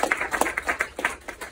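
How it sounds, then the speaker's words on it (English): A theater audience at the Grand Illusion applauds after a film Q&A, a smaller crowd whose individual claps stand out in an uneven, fairly close patter. "please give them a round of applause"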